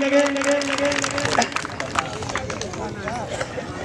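A crowd at a Sindhi malakhra wrestling bout claps and cheers for a wrestler, a dense burst of applause under a loud announcer's voice that fades into scattered clapping and chatter.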